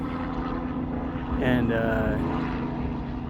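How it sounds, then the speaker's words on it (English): A helicopter passes overhead above an outdoor makeshift shooting range on a warm day, a steady rotor and engine drone that swells briefly, with someone talking over it. "I got a helicopter up there for some reason"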